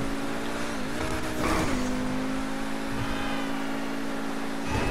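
Pegassi Zorrusso supercar in GTA 5, its engine holding a loud steady note with a brief rev dip, alone without talk.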